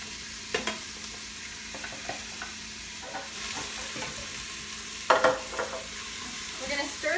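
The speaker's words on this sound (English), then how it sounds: "we're gonna saute these onions" Onions sautéing in a heated Instant Pot, a faint steady sizzle with occasional spoon clinks and a louder scraping stir near the end, close by and without talk.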